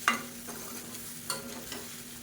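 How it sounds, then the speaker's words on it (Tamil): A spoon stirs masala for mint kozhukattai in a pan, with a low frying sizzle under a few distinct scraping strokes, close and fairly quiet, with no talking. "சேர்த்து நல்லா எல்லாமே கலந்து வர மாதிரி பரட்டி விட்டுக்கலாம்."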